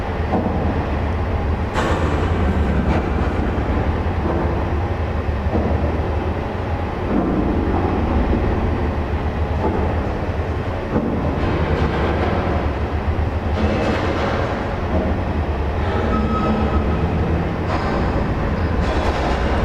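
Loud, steady rumble of an HST train running in the Great Western Mainlines video game, a continuous dense drone with shifting engine and track noise, no talk over it.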